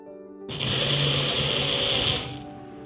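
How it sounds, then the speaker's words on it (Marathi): A kitchen mixer whirs loudly as it blends a mango milkshake made with Alphonso mango and a glass of cold milk, starting abruptly after a quiet moment and running steadily for about two seconds before winding down. "ह्यामध्ये मी 1 ग्लासभर थंड दूध घालणार आहे आणि मिक्सरमध्ये एकदा फिरवून घेणार आहे."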